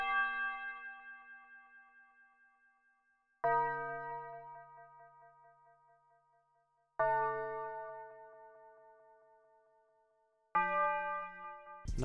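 A digital tubular church bell for dark trap beats strikes four times, each ringing, resonant chime left to decay slowly before the next, clear and alone with no voices.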